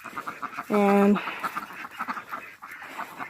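Wild ducks on a Christmas morning give a short, clear run of quacks lasting about half a second, close and fairly loud, while someone talks over the rest of the moment.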